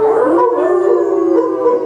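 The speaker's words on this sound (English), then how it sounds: "That's only the dog down in the barn." A dog howls down in a barn, a sound effect for an old-time radio drama of The Canterville Ghost: one long, loud, wavering tonal howl that holds steady and fills the whole moment.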